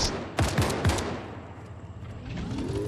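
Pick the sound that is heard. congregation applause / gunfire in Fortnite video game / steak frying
gunfire in Fortnite video game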